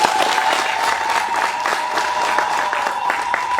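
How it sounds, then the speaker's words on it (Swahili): An audience at a hospital staff bus handover ceremony claps steadily and loudly, a dense, even patter of many hands lasting throughout without a break. "Haya, wote tupige makofi nijue kama mmenielewa."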